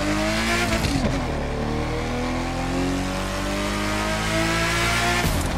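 A high-end hypercar with a five-speed gearbox revs hard in the racing video game The Crew 2, its engine note climbing steadily through long pulls with a gear change and a brief tire squeal.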